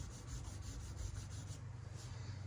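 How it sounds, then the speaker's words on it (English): Sandpaper rubbing a scratch on a brand-new car's paintwork, a steady close-up scuffing with a faint rhythmic back-and-forth stroke, continuous and alone with no voices. "And then when you sand, you're giving those 3 pressure points"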